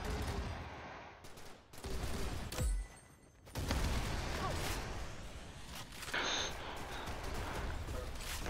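Grenade launcher fire in the Arsenal video game, a run of loud blasts and booming bursts with short gaps between them, heard quietly through game audio.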